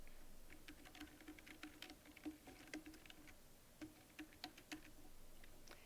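Quiet typing on a computer keyboard while entering spreadsheet text in Microsoft Excel 2016, a faint, irregular patter of light key clicks over a low steady hum.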